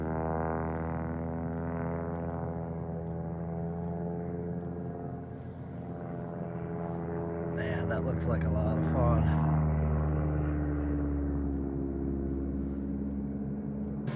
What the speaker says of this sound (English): Guy's getting out flying his plane.